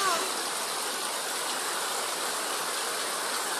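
Strong current of rushing water during heavy rain, a steady dense broadband wash that stays loud and unbroken throughout with no pauses.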